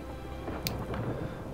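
Rain and thunderstorm ambience from the strategy game Total War: Warhammer 2, a steady rainy hiss with a soft low rumble and one sharp crackle, no voices.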